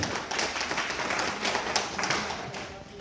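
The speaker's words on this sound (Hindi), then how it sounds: "जोरदार तालियों से इनका स्वागत है" Applause from the audience at a women's honouring ceremony by Bharat Jan Seva Manch, a continuous spread of clapping with voices mixed in and a sharper burst at the very end.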